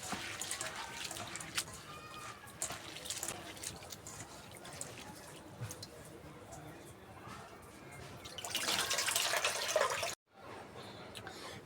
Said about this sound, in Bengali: চিড়েগুলো এখন ধুয়ে নেব।